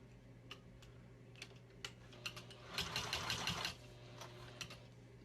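A Juki 2000 QI sewing machine top stitches fabric in one brief run of about a second, quiet and close, set among scattered light ticks and clicks in a quiet room.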